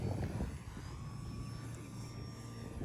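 Battery-powered Cessna 400 scale RC model airplane, about 1.1 m span with a three-bladed propeller, flying overhead with a steady whining motor drone and slowly shifting pitch over a low outdoor rumble.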